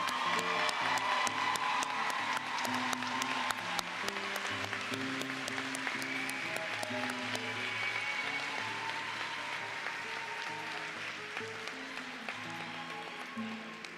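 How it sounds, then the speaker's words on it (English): Applause from a college graduation crowd for nursing graduates, scattered claps and faint cheers blended with background music that carries on underneath throughout. "Let's applaud our nursing graduates."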